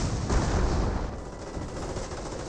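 Airborne infantry squads fire in a Company of Heroes battle, a dense, steady rattle of rifle and machine-gun fire that is louder at first and then eases off slightly.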